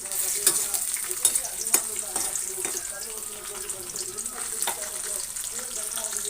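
Garlic, chana dal, urad dal, mustard seeds and dried chillies frying in hot oil, a steady bright sizzle with faint crackles and occasional scrape-like stirring clicks throughout.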